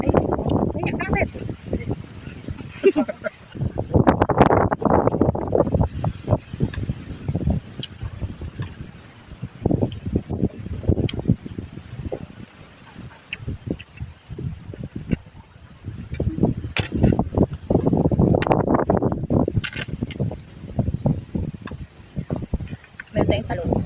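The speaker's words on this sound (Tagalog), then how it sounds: "Daming hangin na." Gusty wind on a farm field buffets the microphone in loud rumbling bursts that rise and fall, with a person talking intermittently underneath.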